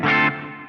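A short electric guitar strum through a Fly Rig pedal on a clean tone with reverb, ringing loudly for a moment and then decaying into a lingering tail.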